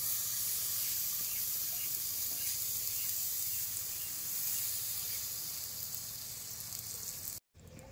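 Puffed rice mixture hitting a hot tawa greased with mustard oil and fried cumin, giving a steady close hiss and crackle that holds evenly for several seconds before breaking off, with no talking.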